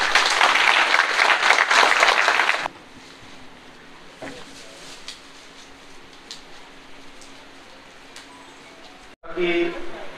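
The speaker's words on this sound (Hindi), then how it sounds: "मैं चाहूंगा सर को ताली बजा के स्वागत।" A crowd at an Ambedkar birth anniversary celebration in Agra gives loud welcoming applause for close to three seconds, then it stops abruptly into a quiet hum before a voice returns near the end.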